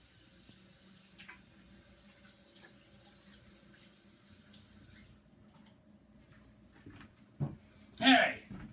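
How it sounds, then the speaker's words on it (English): Water running from a faucet into a sink during handwashing, a steady hiss lasting about five seconds before shutting off, followed by a few soft clunks and faint handling noises. "Let me go wash my hands."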